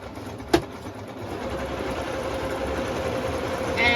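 A sewing machine runs steadily with a continuous mechanical whir and hum, starting with a brief sharp click near the beginning and growing slightly louder toward the end.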